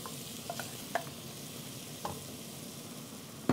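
Seared beef and onion mix sizzles in a pan, a steady close hiss of frying with a few faint clicks of a utensil.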